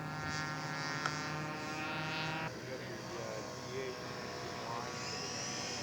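A scale model Yak 18 aircraft taxis out on a Friday afternoon, its engine giving a steady, close buzzing drone with a layered whine that drops in pitch partway through and then holds at a lower, rougher idle.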